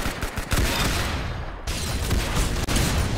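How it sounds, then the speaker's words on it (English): Rapid, loud weapon fire from an unknown weapon shooting red orbs in Roblox Arsenal, a dense sustained burst of shots with a brief dip partway before the fire resumes. "I don't know what weapon that was, but I started shooting red orbs"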